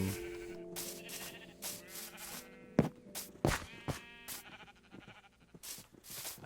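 Many sheep in Minecraft Bedrock bleat in repeated, overlapping short calls at irregular intervals, some near and loud, others fainter, with no talking.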